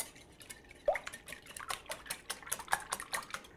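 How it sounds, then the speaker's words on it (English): Whisking beaten eggs with soy milk and onion powder in a mixing bowl: light clinks and taps of a utensil against the bowl with some wet sloshing, fairly quiet and close, no talking. "Next, I'm going to add my soy milk and my dry onion powder and mix together"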